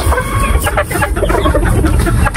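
Kanawayon hatch gamefowl, a dark-legged chicken, clucking loudly and close in short repeated calls over rustling, with no speech.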